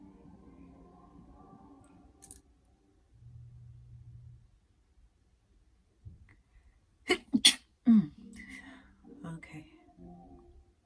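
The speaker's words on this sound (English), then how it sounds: "Spirits say that when you sneeze," A single sharp sneeze bursts out close to the microphone after quiet murmured speech and a low rumble, followed by a few softer catching breaths.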